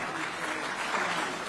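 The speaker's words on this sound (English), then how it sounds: "Can you please give him a round of applause" A round of applause from a conference audience at a tech summit welcoming a speaker, steady dense clapping throughout with no voices over it.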